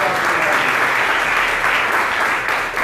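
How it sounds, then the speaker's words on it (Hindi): Loud, sustained applause from a congregation during a sermon, steady dense clapping that fills the whole stretch before easing slightly at the end. "हालेलुया, जोरदार तालियां।"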